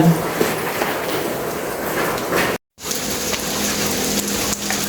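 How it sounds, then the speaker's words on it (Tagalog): Rain falls steadily outside under a dark sky, a constant broadband hiss with a brief dropout partway through. "Maulan."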